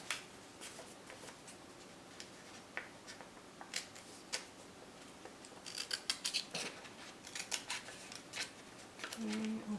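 Scissors cutting little paper castle turret pieces, with quiet close snips in an irregular series that grow busier and more clustered toward the end.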